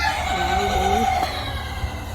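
Laying hens in a poultry house cluck and call, with one drawn-out rising and falling vocalization near the start over a steady mechanical hum and a busy barn background.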